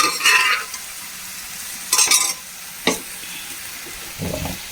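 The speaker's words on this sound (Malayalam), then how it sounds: "നന്നായി ഇളക്കി കൊടുക്കാം." Cooked dal stirred into a fish curry with drumstick leaves in a pan, heard as a few separate scraping, sizzling stirs with short pauses, close and moderately loud.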